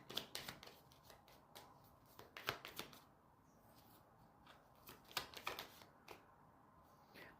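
Playing cards are shuffled by hand in several quick papery bursts of riffling and flicking, close and alone, with brief pauses between each round.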